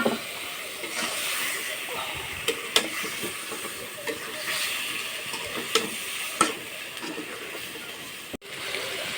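A fish head sautés with spices and salt in a pan, giving a close, crackling sizzle broken by occasional scraping knocks from stirring.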